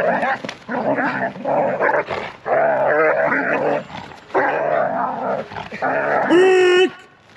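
A muzzled dog growls and barks at a man in a loud, continuous run of vocal bursts, ending in a higher yelp-like whine near the end.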